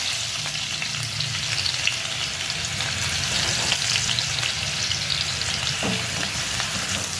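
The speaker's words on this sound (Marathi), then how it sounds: "इथे मी 2-3 चमचे तेल टाकलं आहे. त्याच्यामध्ये आपण ही लसूण टाकूया." Crushed garlic fries in two to three spoons of hot oil with a loud, continuous sizzle and crackle, and a stirring scrape sounds now and then.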